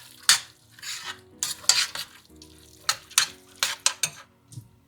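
Lentils and sausages in a pot are stirred with a spoon, giving a close series of irregular scraping and clinking strokes against the pot over a low bubbling simmer.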